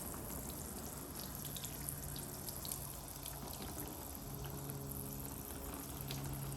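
Water runs from a pump-pressurised camping solar shower, a faint steady spray and trickle with scattered drips that continues without pause.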